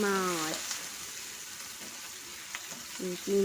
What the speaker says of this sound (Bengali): মাছটা হালকা ভাজা ছিল, আমি আর একটু হালকা ভেজে